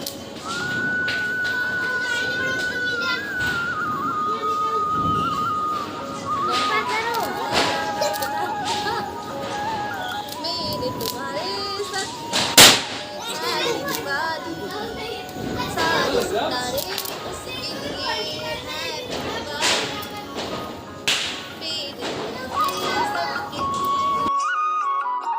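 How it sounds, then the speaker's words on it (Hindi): Diwali night celebration with a family lighting sparklers and firecrackers: whistling fireworks glide up and down, with one sharp bang near the middle, over constant crowd chatter and people talking throughout. "बच्चों बेटे के लिए यहाँ पर फुलझड़ी चला रहे हैं"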